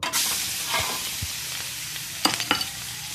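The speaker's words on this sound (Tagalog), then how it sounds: "So ayun po, igigisa po na natin." Onion, garlic, liver and gizzard sautéing in margarine give a steady close sizzle with stirring scrapes, and a couple of sharp utensil clinks near the end.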